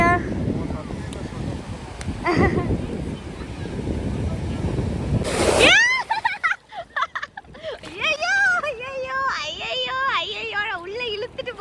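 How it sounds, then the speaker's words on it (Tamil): Sea waves crash and rush on Varkala beach in India, a loud broadband roar with wind buffeting the microphone, then a person shouts and talks excitedly over the quieter surf. "ஐயோ பெரிய அலையா வருது"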